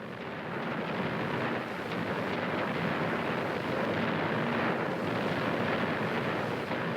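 Sustained artillery barrage, a dense, rolling roar of distant explosions blending into a continuous thundering rumble, steady and unbroken with no talk.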